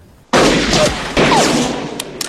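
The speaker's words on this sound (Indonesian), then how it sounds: "Dan Will-lah yang harus menembaknya." Gunshots ring out in a western film shootout, two loud sharp blasts about a second apart, each leaving a long echoing tail, with faint clicks near the end.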